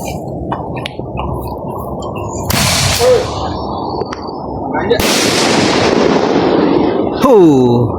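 Loud firecracker blasts going off close by during a Ramadan camping trip in a garden, a sharp bang followed by a longer booming burst and crackling, with background noise between.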